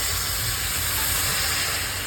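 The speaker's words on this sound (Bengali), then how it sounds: "এবার অল্প করে পরিমাণ মতো গরম জল মেশাবো," Hot water poured into a hot pan over potatoes cooking for a banana blossom ghonto gives a loud, steady steamy hiss that fills the whole moment, with no talking.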